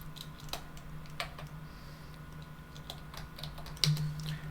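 Typing on a computer keyboard while entering a password at a Linux terminal: a quiet, close run of uneven key clicks with brief pauses, ending on a slightly louder tap.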